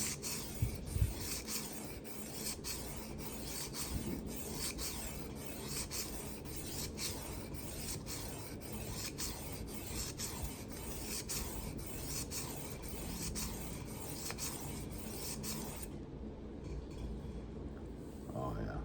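A Kabar knife blade filed into a Scandi grind: quiet, steady rasping strokes repeating rhythmically for about sixteen seconds, close and continuous, then stopping into near silence.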